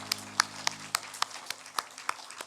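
Scattered claps from a church congregation during a Sunday worship service, about ten sharp separate hand claps at an irregular, fairly steady pace, moderately faint over a low sustained tone that fades partway through.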